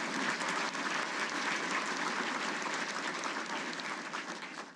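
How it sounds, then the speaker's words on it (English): At a 2017 DLA Hall of Fame ceremony, an audience applauds Larry with a steady wash of clapping that fills the hall, fairly soft, and tapers slightly toward the end. "let's give Larry a round of applause"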